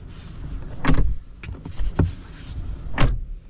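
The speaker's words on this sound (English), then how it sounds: "doors opens and closes nicely, smooth like that" The doors of a brand-new 2026 Kia Sportage 1.6 T-GDI AWD open and close, giving three solid close-range thumps and softer latch clicks between them, heard alone without talk.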